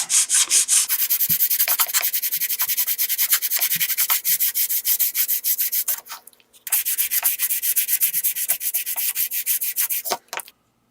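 Close, rhythmic rasping strokes of sandpaper on a Sand It block shaping a 10-degree angle on wood, continuing steadily with two short pauses.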